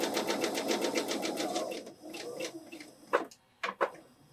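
Home sewing machine chain piecing quilt fabric patches: a fast, steady mechanical stitching whir for nearly two seconds, then quieter fabric handling and a few sharp clicks from the presser foot and thread.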